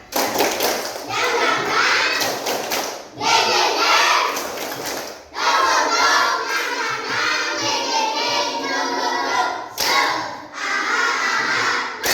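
A school class claps together in quick rhythmic bursts while voices chant loudly along, in several energetic rounds separated by brief pauses.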